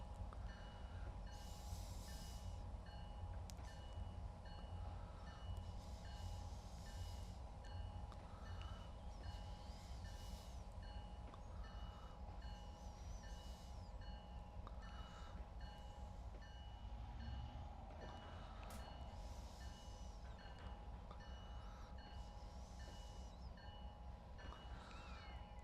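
Train in the Trainz railway simulator backing slowly, a steady low rumble and rolling hiss running unbroken throughout, with faint wagon clatter and a brief horn-like tone near the start.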